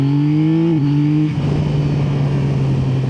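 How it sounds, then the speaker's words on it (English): Yamaha Tracer 9 GT motorcycle in sport mode, engine note rising through a third-gear roll-on, with a loud steady drone dipping briefly as the throttle opens, then a rougher, fuller roar carrying on continuously. "So let's do a third gear roll on again."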